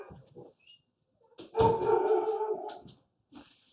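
A dog indoors gives one drawn-out, fairly loud whine lasting about a second and a half, with a few softer whimpers around it and quiet gaps between.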